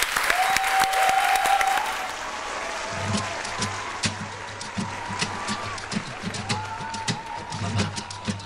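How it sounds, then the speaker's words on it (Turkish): Audience applause at a televised evening show in Turkey, steady and loud throughout as a singer is introduced, with music starting underneath partway through. "Büyük alkışlarınızla"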